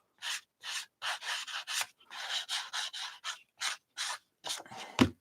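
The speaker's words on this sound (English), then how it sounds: "just take a light sandpaper and kind of go along the edges." Light sandpaper rubbed along the edges of paper pages, a series of about a dozen short, close rasping strokes in a steady rhythm, ending with a sharper knock.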